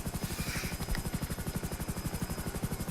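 A Hunter helicopter climbing hard toward a finish line in a long-distance speed run gives a rapid, steady blade chop, loud and close, with a constant turbine whine running beneath the thumping rhythm.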